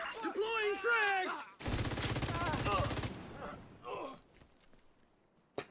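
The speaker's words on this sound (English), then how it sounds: "Deploying frag!" A frag grenade goes off in an open-world shooter video game, a loud crackling blast lasting over a second, followed by a faint pop and a short sharp crack near the end. A person speaks just before the blast and briefly after it.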